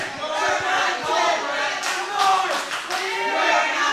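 Wrestling crowd at a ProSouth Wrestling event cheering, clapping and chanting loudly, a dense continuous roar with swells of shouting and applause throughout.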